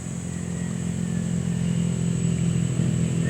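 Honda PCX scooters riding along Marilaque Highway, their mid-pitched engine drone building gradually and staying loud and close as they pass, with no talking.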